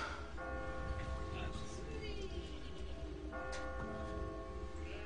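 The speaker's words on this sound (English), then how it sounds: "That bell makes you want to just rush" Bell tolling in the puzzle video game Catherine, sustained ringing tones that strike twice and hang over a steady background of game music and low rumble, fairly quiet and constant.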